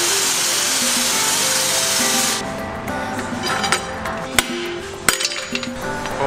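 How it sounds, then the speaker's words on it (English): Work on an axle seal in a 2017 Ram AAM differential starts under a loud, steady rushing noise. After it cuts out, sharp metallic clinks, taps and scraping follow at close range, irregular and without speech. "Pete's gonna remove the other axle seal."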